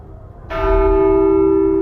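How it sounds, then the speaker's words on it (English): A single bell strikes loudly and rings on with a clear sustained tone, over a faint low background rumble, in the video game The Walking Dead: Saints & Sinners. "ringing a bell"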